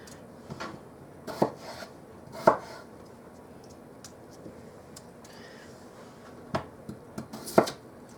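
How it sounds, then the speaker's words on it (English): A knife chops through potatoes on a cutting board, quartering them in a handful of sharp, separate thunks spaced irregularly across a quiet kitchen, close and clear with no talking. "Now I've got about 5 potatoes here, and I'm just going to quarter them."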